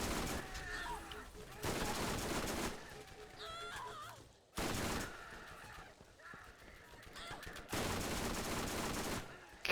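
Rapid bursts of rifle fire from a PTR 91 in a shooting video game, several loud sustained volleys separated by quieter gaps with small game effects, no talk over the shots.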